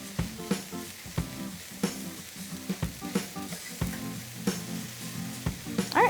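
Asparagus, peas and red bell pepper sizzle in a hot pan, a steady crackling fry broken by regular clacks of stirring, close and fairly loud with no talk.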